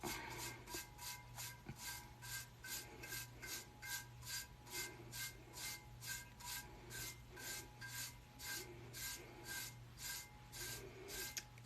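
A stencil is burnished onto a tumbler cup with a fast, even back-and-forth rubbing. About twenty close scraping strokes repeat steadily with no talking.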